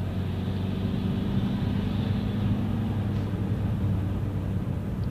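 A turbocharged car engine drones steadily from inside the vehicle, a constant loud low rumble with a faint whistling hiss above it and no talk.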